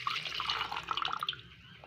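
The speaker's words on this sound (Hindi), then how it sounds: "जूसर लेंगे 1 अदद, इसके अंदर मैं शामिल करूँगी इमली का पानी।" Tamarind water pouring into a juicer jar for tamarind-mint chutney, a steady trickling liquid stream with splashes that thins toward the end, close and moderately quiet, no talking.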